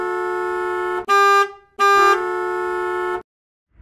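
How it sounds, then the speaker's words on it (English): Car horns honk in Hanoi street traffic, with two long loud blasts around a couple of shorter, harsher honks, all close and sounding alone. "I've never heard more horns honking ever before"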